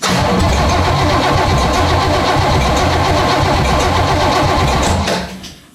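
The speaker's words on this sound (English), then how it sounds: "the point here is to just spin this over a handful of times without it trying to fire" A freshly rebuilt engine that had been sitting is cranked over by the starter without firing: a loud, steady, rhythmic churning for about five seconds that winds down and stops.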